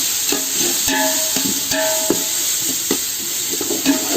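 Ginger fries in a pan for chicken dum biryani while a utensil stirs it, giving a steady sizzle broken by repeated scraping strokes, close and moderately loud with no talking.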